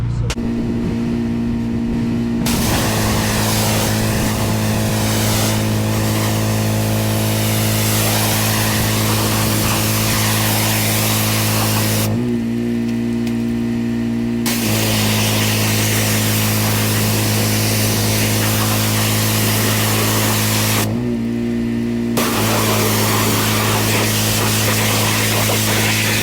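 Pressure washer spraying a vehicle at a mobile detailing job: a loud, steady, hissing spray over the constant drone of the washer's motor, cutting out twice for about two seconds before resuming.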